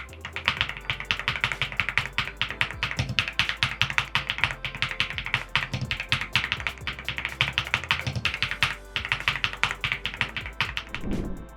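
Rapid typing on an Epomaker Galaxy100 Lite 98% keyboard produces a dense, continuous patter of crisp keystroke clacks, heard close and alone.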